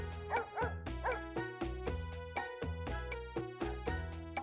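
A boxer dog in the PS1 game The Dog Master barks repeatedly, about ten sharp synthesized yips and woofs in quick, irregular bursts, clear and upfront with nothing else heard.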